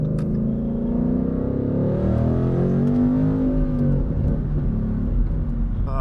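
A 2017 Ford Mustang GT Performance Pack V8 pulls hard under acceleration, a loud steady engine drone rising in pitch from inside the cabin, continuous with no talking.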